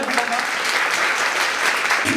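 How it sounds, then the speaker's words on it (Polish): Audience applause at a student cabaret competition in Poznań, a dense, loud burst of clapping filling the whole moment, with some crowd noise beneath. "Wielkie brawa dla nich, naprawdę."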